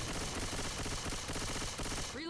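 Rapid automatic gunfire from the zombie shooter Left 4 Dead 2 rattles loud and continuous through the whole short burst, fired while fighting a horde, with no talk over it.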